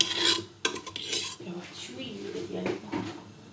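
Sfa dough being mixed by hand in a bowl, giving close scraping and clattering knocks of dish and utensil against the bowl, with a voice speaking over part of it.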